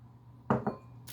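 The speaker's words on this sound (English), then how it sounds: "Give it a really good stir" A spoon scraping and knocking twice against the side of a crock pot while stirring pasta e fagioli, two short close clinks in a quiet kitchen, with a further clatter at the very end.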